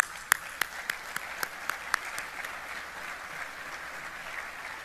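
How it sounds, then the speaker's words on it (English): Applause breaks out for a commanding general at a formal military event, a few loud nearby claps standing out early over a broad, steady clapping crowd. "Let's give him a round of applause."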